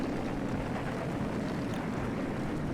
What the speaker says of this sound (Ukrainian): цей вітер так шумить, що це взагалі